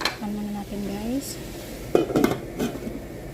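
A metal lid clanks down onto a cooking pan on the stove while creamy red pasta sauce is being made, giving a couple of short metallic clinks and a rattle over faint background hum.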